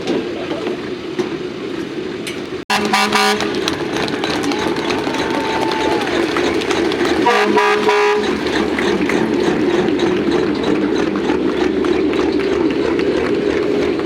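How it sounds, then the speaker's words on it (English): Deep, blaring semi-truck air horns sound in short bursts amid a loud engine roar of a 2,000+ horsepower modified semi at a fair truck pull, with crowd noise and talk underneath. "he's going to blow those air horns"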